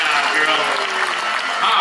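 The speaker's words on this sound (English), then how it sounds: "All right, yeah, more clapping." An audience claps at a sea lion show, a brief burst of crowd applause with a voice talking over it.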